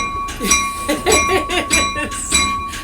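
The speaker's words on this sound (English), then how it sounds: "This bell is loud." A loud locomotive bell on SDNX 2103 clangs in a steady repeating rhythm at the Campo railway museum, each strike ringing bright and metallic over low rumbling machinery.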